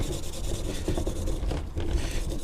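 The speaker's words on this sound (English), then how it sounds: "get the brake cleaner ready, and we're just gonna scrub the whole thing" A clutch disc being scrubbed clean with brake cleaner, giving a steady, close, continuous rough rubbing and rasping that runs unbroken with no talk.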